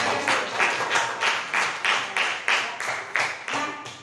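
Students in a classroom clap together in a rhythmic pattern of about ten evenly spaced bursts, moderately loud and close, with no talking over it.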